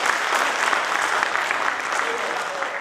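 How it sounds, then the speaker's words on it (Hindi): Audience at a community souvenir-booklet release programme in a hall bursts into steady, dense applause, many hands clapping together at close range. "अब हम लोग तालियों की गड़गड़ाहट से इनका स्वागत करें।"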